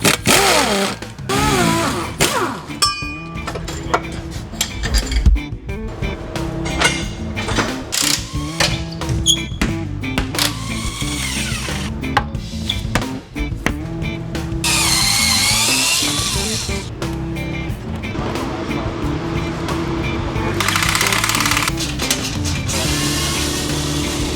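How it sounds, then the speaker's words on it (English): Power tools and ratchets working bolts loose on the drivetrain of a BMW F30 340i with a B58 engine in a garage, with bursts of whirring drilling and clicking mechanical rattles, loud and close throughout. "We need to pull these bolts out to get it to drop down."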